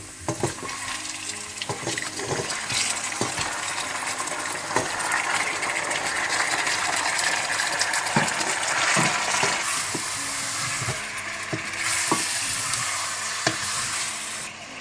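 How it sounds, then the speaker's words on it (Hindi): Steady, close sizzling of chicken frying with golden-brown onions in a hot pan, with occasional scraping and stirring clatter throughout. "अब इसमें मैं चिकन ऐड कर दूंगी"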